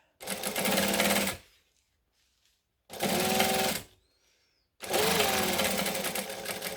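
Sewing machine stitching along a raw edge of a bag, three separate loud bursts of fast needle rattle, each lasting about a second or more, with near-silent pauses between them.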